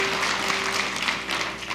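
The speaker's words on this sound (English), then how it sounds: "Another round of applause." Audience applause at a Burns Night 2022 gathering, a steady, diffuse patter of many hands clapping at moderate distance that holds for the whole short stretch with no voices over it.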